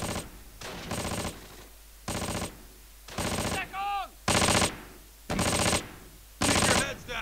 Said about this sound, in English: What are they firing at?